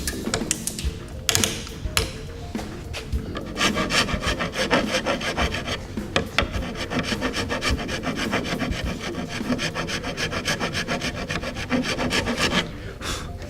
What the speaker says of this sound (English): I like to use this round rasp.